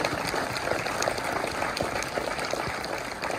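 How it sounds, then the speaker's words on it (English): Theater audience applauding the Oppenheimer film crew at a screening, a thick, even roar of clapping that stays at a constant level for the whole stretch. "please join me in a round of applause for all of them"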